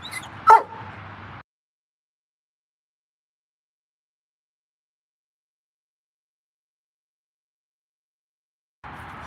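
A dog gives a short sharp bark or yip near the start over brief household noise, after which there is silence until faint sound returns at the end.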